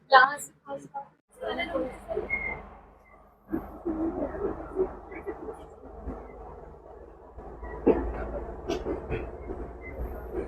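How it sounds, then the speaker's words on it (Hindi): A passenger train runs along the tracks on the scenic Nanu Oya to Ella line in Sri Lanka, with a steady rumble of the rolling carriages and some clatter, while a person talks close by. "ये हमारी ट्रेन चलती हुई"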